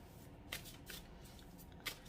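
Playing cards shuffled for a card reading, a faint soft riffling with two brief louder bursts of cards snapping together, heard alone in a quiet room.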